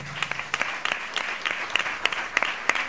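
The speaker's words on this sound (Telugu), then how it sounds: "చప్పట్లు కొట్టి దేవుని స్తుతిద్దాం" A church congregation at a Sunday service claps in praise, fairly faint, with sharp uneven claps scattered over a soft murmur for a few seconds.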